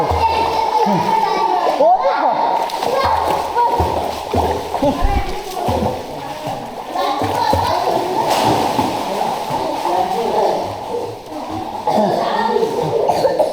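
A child swims and splashes in an outdoor public swimming pool, with repeated sloshing and splattering water close by throughout, while an adult calls out encouragement over the splashes.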